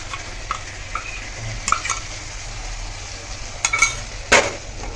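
Local chicken meat frying in a pan as masala spices go in, with a steady sizzle under scraping stirs and a few sharp clinks of a utensil against the pan, close by.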